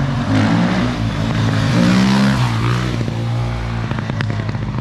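A Honda CBR motorcycle revs and rides at a Poznań gathering. The engine pitch is loud and close, swelling and sweeping up and down, with sharp pops and crackles near the end.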